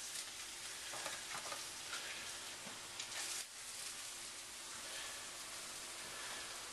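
Onions dropped into a hot pan with garlic fry in a steady, close hiss of sizzling that runs without break and with no talking.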